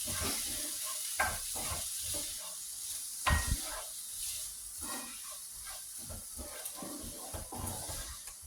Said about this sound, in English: Everything is nice and hot and sizzling.